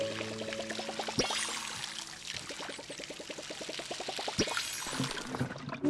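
A watering can pours water in the farming game Palia, a close, steady splashing stream with repeated clicking pulses running under it and brief louder accents, with no talking.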